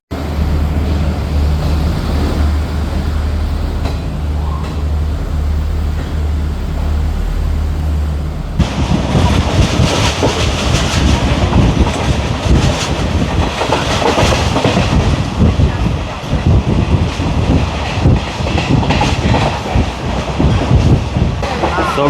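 A passenger train runs on rails in Sri Lanka, starting with a steady low rumble before a loud, dense clickety-clack of wheels over track joints takes over and continues close by.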